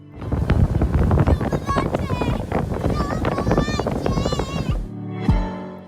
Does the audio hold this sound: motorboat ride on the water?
yes